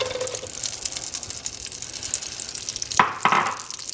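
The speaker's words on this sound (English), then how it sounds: "And let this fry in here for a little bit till the onions are a little bit soft but not completely brown." Onions fry in butter in a pan for spicy rice, giving a moderate steady crackle and sizzle with a couple of sharper stirring scrapes near the end; no talking.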